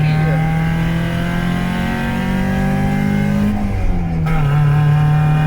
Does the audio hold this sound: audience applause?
no